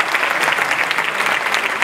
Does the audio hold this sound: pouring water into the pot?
no